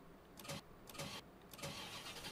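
A Nissan S13's engine in the racing game SLRR cranks repeatedly without catching, three strained starter bursts in a steady rhythm over a constant low background hum, moderately loud and without voices.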